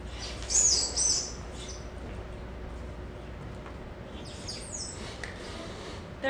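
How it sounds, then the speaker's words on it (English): Wrenbacher junelings, Sacra stellatica, give two short, high chirping bursts near the start, then fainter calls toward the end over a steady low hum with no talking. "Birds. Not just any birds. Wrenbacher junelings, Sacra stellatica"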